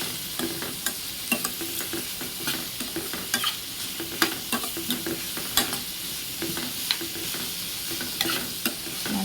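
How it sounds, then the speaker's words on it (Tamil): Onions and curry leaves fry in oil for a tuna fish masala, with a continuous close sizzle broken by frequent rhythmic scrapes and knocks of a spoon stirring the pan, no voices. "இப்போ இதை நல்லா வதக்கிடணும்."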